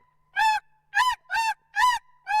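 A person imitates a snow goose by mouth, giving five short, nasal honking calls in an even rhythm with brief pauses between them.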